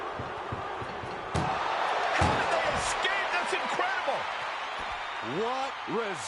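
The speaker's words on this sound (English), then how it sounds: "Shut the door, seal their fate." An ambulance door slams shut in a WWE 2K25 wrestling match, one heavy thud among arena crowd noise, followed by smaller knocks as a commentator talks over it.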